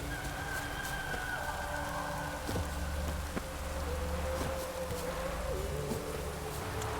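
Steady rain in The Witcher 3, a continuous even hiss filling the scene at moderate level, with faint game ambience and no talk over it.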